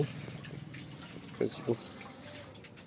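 A cow's hoof, sore from foot and mouth disease, is washed with hot water, giving faint trickling and two brief splashes over a low background of voices.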